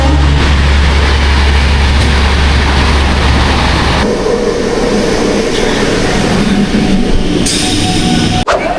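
Trains at Sealdah railway station in Kolkata on a rainy day, a loud continuous rumble and clatter of rolling carriages that eases partway through, with a brief bark-like sound and no talk.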